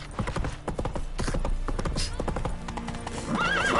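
Roach, a horse in The Witcher 3, clip-clops in quick rhythmic hoofbeats close by, with a whinny near the end and a voice in game dialogue over it.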